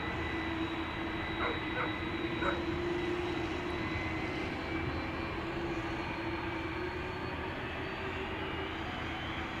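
Jet airliner engines at Amsterdam Schiphol spooling up for takeoff, a steady distant roar with a sustained whine, level and unbroken for nearly ten seconds, with no talk over it.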